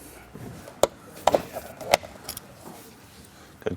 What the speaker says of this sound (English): we got to pull some of the plastic pieces off